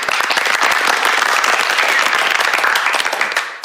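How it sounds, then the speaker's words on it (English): A conference audience applauds to welcome a speaker before a talk on crypto taxation: dense, steady clapping from many hands, loud and close, holding for about three and a half seconds before tapering off slightly at the end. "So please give him a warm applause."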